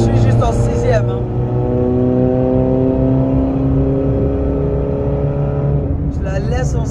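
Ferrari engine pulling hard in sixth gear, a loud sustained drone with steadily rising harmonics through the middle of the clip, with someone talking over it at the start and end.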